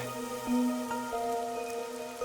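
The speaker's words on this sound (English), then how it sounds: "The rain, it never stops." Steady rain in the video game Master Detective Archives: Rain Code, a continuous dense patter layered with soft tonal music, moderately loud throughout with no talking.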